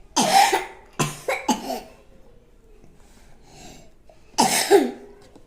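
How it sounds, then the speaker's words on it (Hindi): Harsh coughs up close: a single cough, then a quick cluster of three, a quiet gap with faint breathing, and two more coughs. "अभी तो खांसी आ रही है।"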